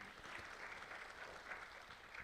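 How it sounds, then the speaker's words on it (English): An audience at an Adventist talk applauds a speaker, giving a faint, distant wash of steady clapping with no voices. "Another round of applause to him"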